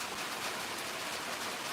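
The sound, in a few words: rain falling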